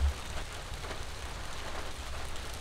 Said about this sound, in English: somehow, on a day like this, it's now raining